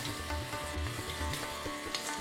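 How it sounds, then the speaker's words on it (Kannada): Spices and garam masala fry in a pan for aloo kurma, giving a soft continuous sizzle with light stirring scrapes, fairly quiet and close. "ಇವೆಲ್ಲ ಚೆನ್ನಾಗಿ ಫ್ರೈ ಆಗ್ತಾಯಿದೆ."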